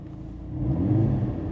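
A Mercedes C43 AMG engine is floored at full throttle, heard from inside as a deep, rising rumble that swells and holds over a short burst.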